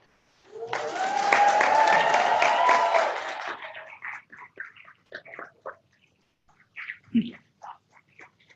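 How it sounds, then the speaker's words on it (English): Commencement ceremony audience breaks into a burst of clapping that swells for about three seconds, then thins into scattered claps and murmuring voices in a large hall. "give a big round of applause to those who really made all of this possible, your families."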